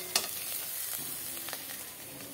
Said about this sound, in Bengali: চিংড়ি মাছগুলো নেড়ে চেড়ে ভেজে নিলাম,